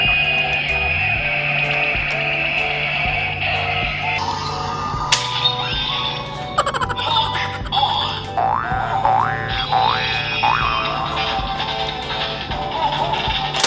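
A Kamen Rider transformation belt toy plays electronic sound effects: a steady synthetic tone with chimes, then a run of springy boing-like sweeps and short zaps, fairly loud and close.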